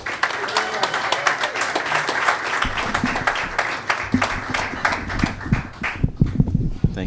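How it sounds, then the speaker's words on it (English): Audience applause for a storyteller at a live event, many hands clapping in a steady, moderately loud burst, with some murmuring voices mixed in. "Let's give him a round of applause"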